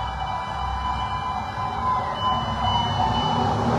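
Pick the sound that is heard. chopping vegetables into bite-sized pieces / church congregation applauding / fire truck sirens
fire truck sirens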